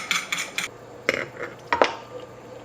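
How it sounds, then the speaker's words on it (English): A utensil scraping and clinking against a bowl as cheese is mixed into beaten duck egg, several quick irregular metallic taps and scrapes close by, no talking. "now let's incorporate this cheese and egg"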